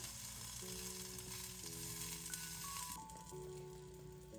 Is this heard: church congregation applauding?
no